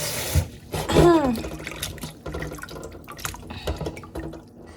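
Tap water runs over grapes being washed in a kitchen sink, giving a steady splashing stream with a few louder gurgles and drips close by. A voice sounds faintly now and then.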